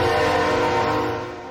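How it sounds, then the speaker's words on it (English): A railroad train in an urban rail district sounds a sustained, loud horn with steady tonal blasts over rumbling rail noise, fading slightly at the end. "Anyone who's worked in the North End, as I have, gets used to the sound of trains coming and going."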